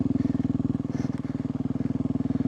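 A dirt bike engine drones steadily while riding in the Arizona desert, with a low, even throb pulsing fast and close at a constant pitch and no voices.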